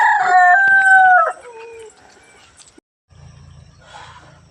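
A farmyard rooster crows loud and close among chickens, one long call that breaks off into quieter clucks and rustling in the background.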